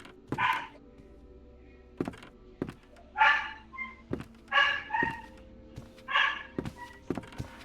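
A dog in the Curse of Granny video game barking in short separate bursts, with dull thumps and footstep-like knocks between them, moderately close.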